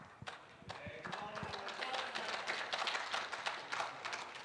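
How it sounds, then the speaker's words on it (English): Spectators clap across an outdoor bowling green during a mixed pairs knockout match, a steady patter of sharp claps rising and continuing throughout, mixed with a voice talking. "Why are claps so loud from across the green"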